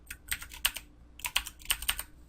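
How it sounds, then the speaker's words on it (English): Fingers typing on a computer keyboard, close and crisp, in two quick bursts of clicking keystrokes separated by a short pause. "I guess I have to do it with a keyboard"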